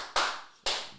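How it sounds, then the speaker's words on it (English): Two sharp, separate hand claps, close and loud, each ringing out briefly before the next, with no voices. "please guys, let's give a round of applause for that"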